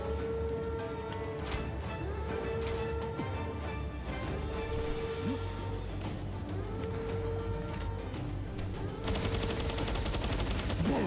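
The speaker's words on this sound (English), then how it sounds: "is an NPC just shooting at nothing?" Rapid automatic gunfire rattles on without a break in Palworld, dense and fairly distant, layered over a steady game soundscape with a repeating low tonal whine.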